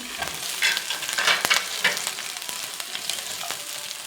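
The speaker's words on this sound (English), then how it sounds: "And let's saute the ginger." Ginger and garlic sautéing in hot oil in a pan for a chickpea and chicken curry, a steady close sizzle with bursts of frying crackle and a few sharp clinks of stirring, no voices.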